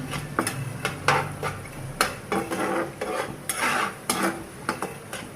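Dried loitta fish being stirred into masala in a pan with a utensil, giving repeated scraping and clattering strokes against the metal at an uneven rhythm, close by, with no talking.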